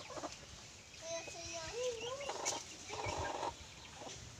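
Chickens cluck and warble nearby in a short burst of calls over faint background noise in Miagao, Iloilo.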